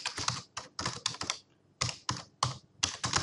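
Rapid typing on a computer keyboard, close and clear, in bursts of clattering keystrokes separated by short pauses, with no talking.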